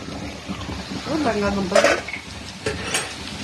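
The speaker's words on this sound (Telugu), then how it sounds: "కట్ చేసుకున్న బంగాళదుంపలు వేసుకొని ఒకసారి కలిపి మూత పెట్టుకుందాం" A spoon scrapes and clinks against a pan while cut potatoes are stirred during cooking, with a soft rustle underneath. Someone speaks over the stirring.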